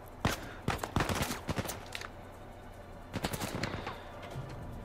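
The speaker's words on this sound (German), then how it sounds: "Die schießen auf." Bursts of video-game gunfire in Uncharted 4, rapid automatic volleys and sharp single shots crackling in clusters, a loud flurry early, a pause, then another round of shots later, with faint footsteps between.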